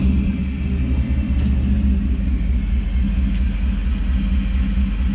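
A truck being driven into a shop, a loud steady low engine rumble close by that holds constant throughout with no speech.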